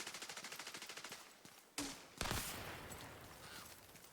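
Video game gunfire: rapid rhythmic automatic bursts at first, then a couple of loud heavy blasts followed by sustained crackling fire, fairly close and with no talking.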